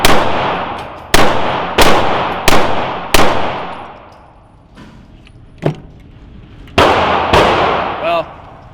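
Police-style pistol shots fired at a target ring out close and loud, a quick string of five sharp cracks, then a pause with a faint clink, then two more shots, each leaving a short echoing decay.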